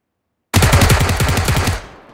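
A loud, close burst of automatic gunfire in PUBG Lite, a rapid rhythmic stream of shots lasting over a second before tailing off, with no talk.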